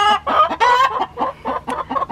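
A chicken kept in a backyard pen clucks up close in a loud, rapid series of throaty bursts, one after another with no pause.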